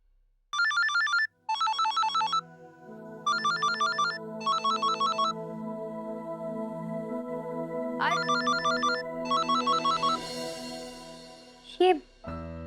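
A mobile phone plays an electronic ringtone in repeated bright trilling bursts, loud and close, over sustained background music, with a brief voice near the end. The call comes from a diabetes doctor.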